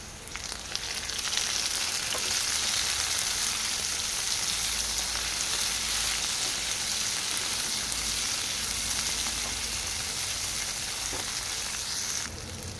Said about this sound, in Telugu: తాలింపు ఫ్రై అయిన తర్వాత ఒక టమాటా ముక్కలు చిన్నగా ఇలా కట్ చేసుకొని వేసుకోవాలి